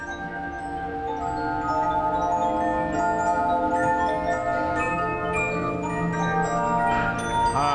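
An antique coin-operated machine fitted with bells plays a rich, continuous mechanical tune of sustained ringing tones, steady and fairly loud, with no talk.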